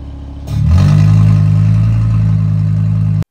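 An Audi RS3 with its exhaust valves open starts up and settles into a loud, steady, deep engine drone that holds for several seconds before cutting off abruptly.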